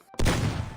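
Gunshot in the video game Mecha Chameleon: a single sharp, loud burst after a brief silence, followed by a short decaying rumble.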